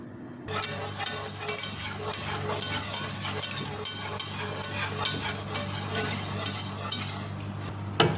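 A flour mixture cooking and bubbling in a pan for Arabic haba hamra, giving a steady sizzling hiss with frequent utensil scrapes and taps against the pan, no talking.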